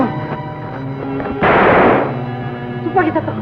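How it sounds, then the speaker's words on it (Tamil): Gunfire bursts in a Tamil film scene, a sharp, dense volley of shots standing out against a musical soundtrack, loud and close, with further scattered shots afterward. "துப்பாக்கி சத்தம். அங்கேயும் கேட்குது"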